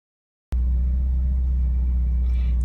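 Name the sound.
Porsche 944 engine rumble while parking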